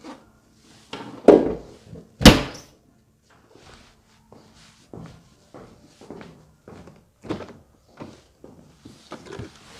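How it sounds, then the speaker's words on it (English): The hood of a 2019 Mercedes-AMG GT63S 4-Door Coupe is shut with a couple of sharp, solid thumps close by, the second the loudest. Softer footsteps and light handling knocks follow in a quiet setting. "So let me close the hood"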